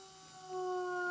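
A water-cooled CNC router spindle starts up with a steady tonal whine whose pitch climbs as it spins up over about a second, heard alone at close range.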